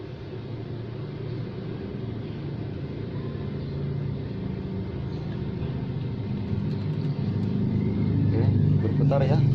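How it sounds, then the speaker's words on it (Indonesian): An electric scooter's BLDC hub motor spins under light throttle on a UWinfly Love Summer moped, giving a steady low hum and rumble that grows slightly louder toward the end, with faint background speech. "Jadi ini posisi gas putar sedikit aja ya udah berputar ya"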